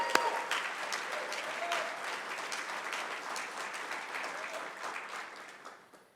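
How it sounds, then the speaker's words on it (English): Sustained audience applause at a conference opening keynote honoring a man, a dense steady clapping from a large crowd that holds for several seconds before tapering off at the end. "How about a round of applause for Chris?"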